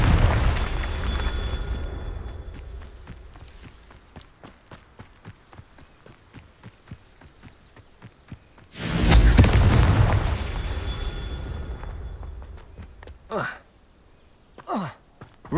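A Confringo fire spell explodes in the Hogwarts Legacy video game during a Merlin Trial puzzle in the Feldcroft Catacomb: one loud, broad burst erupts midway and rumbles off, followed by a couple of short whooshes, over quieter game sounds and footsteps.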